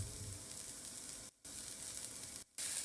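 Onions with ginger garlic paste sizzling in a pan for keema kachori, a steady close hiss with two brief dropouts, and no one speaking.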